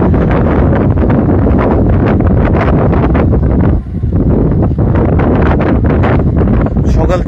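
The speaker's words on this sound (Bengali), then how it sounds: "এখন হঠাৎ বাতাসের গতিবেগ খুবই বাড়তেছে" Strong wind gusts across a river by a ferry ghat where speedboats run, a loud, constant buffeting roar pressing on the microphone from start to finish, with only a brief lull midway.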